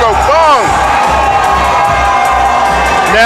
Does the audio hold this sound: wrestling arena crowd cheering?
yes